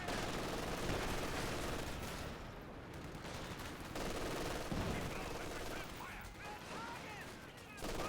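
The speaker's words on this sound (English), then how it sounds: "Pack howitzer curving shots in" In the video game Company of Heroes 2, dense gunfire and machine-gun bursts crackle without pause, with pack howitzer shells thumping in. A commentator's voice runs over the loud, busy battle throughout.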